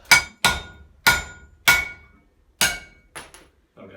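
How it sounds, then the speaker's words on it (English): Blacksmith's hammer striking steel against a cutting tool lodged in an anvil, about seven sharp ringing metallic blows in an uneven rhythm, loud and close with brief decaying rings between hits and no talking. "that's how you cut steel in the medieval era, with a hammer and a small thing that's lodged in my anvil"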